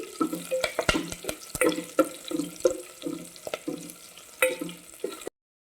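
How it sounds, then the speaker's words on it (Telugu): Ground fenugreek leaves hit hot oil with curry leaves and sizzle softly as they are stirred, with scraping and light clattering up close before the sound cuts off abruptly. "మెంతాకును వేస్తున్నానండి"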